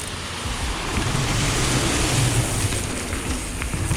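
Rushing water from a waterfall on a Whistler mountain bike trail roars steadily and broadly, close and loud with no talk.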